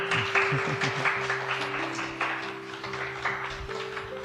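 Audience applause at a Spanish-language panel discussion on depression, a dense patter of claps held steady across the clip, with a sustained tone and low murmuring underneath.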